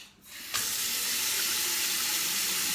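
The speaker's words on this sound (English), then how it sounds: "we're going to have to turn it on now with water pouring out" Franke Ascona kitchen mixer tap with a repaired ceramic cartridge turned on after a short fumble, releasing a sudden, steady rush of pouring water into the sink that continues strongly to the end.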